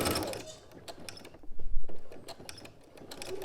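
A sewing machine back-stitches a seam on a robe in quick mechanical bursts of rattling stitches, broken by a short pause in the middle.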